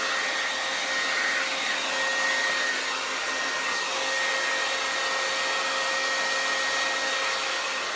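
Hair dryer blowing continuously at the roots of hair, a loud, close, steady whooshing roar with a faint whine, running unchanged throughout with no talking.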